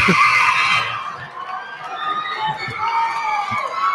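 A JFK crowd at an IIAAG boys basketball championship against Sanchez roars continuously as fans get ready to storm the court. The dense, sustained cheering fills the space, with a commentator talking over it.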